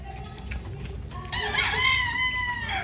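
Several roosters crow in overlapping calls at a rainy-season farm, one strong drawn-out crow rising loud and close over a constant wash of background noise, with no talking.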